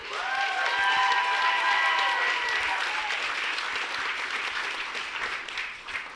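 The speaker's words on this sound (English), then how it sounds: "Can everybody give her a round of applause?" Wedding reception guests applaud the bride in a sustained, dense round of clapping that fills the room, with a few cheers and tonal whoops rising over it early on before the clapping carries on steadily.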